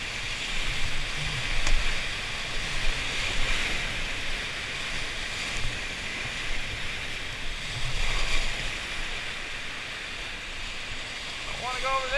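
Whitewater rushing through a rapid on Marsh Creek makes a continuous broadband roar of churning water, fairly loud and steady with slight surges, with some faint voice sounds in the mix.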